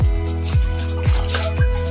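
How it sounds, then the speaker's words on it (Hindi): Water drips and splashes in a steady rhythm of four distinct wet plops as clothes are washed by hand at home, close and loud with no talk. "ये रहे मेरे माँ जो इधर कपड़े धो रही है गाइस"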